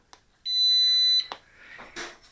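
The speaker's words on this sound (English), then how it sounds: "If you hold it down, it makes that single beep and then turns off" A single steady high-pitched electronic beep from an HK A-430 transmitter as it switches off, under a second, followed by a few soft clicks and handling noises.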